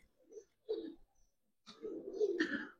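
Giribaz pigeons coo in a few soft, low bursts, a short call followed by a pause and then a longer rolling coo near the end, close by with no talk.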